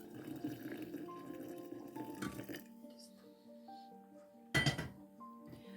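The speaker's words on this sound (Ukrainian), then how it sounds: "І я зараз заливаю, сюди виливаю 600 грам кипяченої води." Boiled water, 600 grams, pours into a glass jar holding hawthorn berries and spirit, with clinking glass, a steady liquid rush that stops abruptly, followed by a sharp clink.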